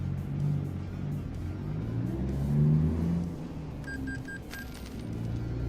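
Modded truck engine in American Truck Simulator revving steadily with a low droning rumble and a looping upper-end tone, continuous and fairly loud throughout, with brief high electronic beeps near the end.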